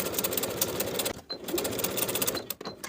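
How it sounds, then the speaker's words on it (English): Sewing machine basting the top of a pocket on linen shorts, a steady close rapid stitching whir that runs continuously with two brief pauses. "Baste the top of the pocket in place."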